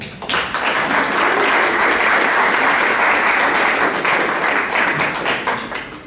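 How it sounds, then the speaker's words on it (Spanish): A book-launch audience for Blanca Varela's collected poetry gives Manuela, the poet's granddaughter, a warm round of applause, dense and sustained for several seconds before tapering off. "Recibamos pues a Manuela con un fuerte aplauso."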